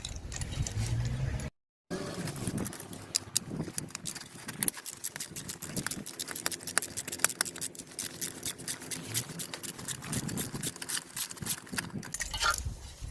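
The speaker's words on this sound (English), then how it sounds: "This bolt I'm removing so that we can remove the casing, this casing." Bolts are worked loose from the filter casing of a 2.2 CTDi diesel Honda Civic, giving rapid close ratcheting clicks with a brief gap.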